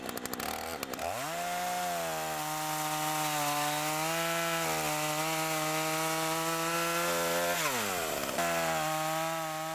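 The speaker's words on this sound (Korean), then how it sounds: "해변에 울려 퍼지는 요란한 전기톱 소리가 활기차고 신나게 느껴지는 건" A chainsaw cuts driftwood logs on a beach in Vancouver, Canada. It runs loud and close, rising from idle into a steady, sustained whine under load, with a couple of brief dips in pitch as the cut shifts.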